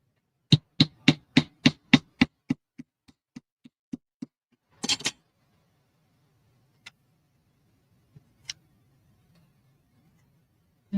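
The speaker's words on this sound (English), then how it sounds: "so I can hammer it in." A small hammer taps while crafting a pincushion: a fast run of about ten sharp, evenly spaced knocks that fades to lighter taps, then a brief flurry and a few scattered hits in a quiet room.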